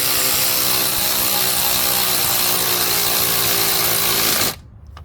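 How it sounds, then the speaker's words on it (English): A ratchet gun whirs continuously while snugging down bolts on a 2005 Honda Pilot during a head gasket job. The buzz is loud and steady, then cuts off abruptly near the end. "we're just going to snug these down with the ratchet gun"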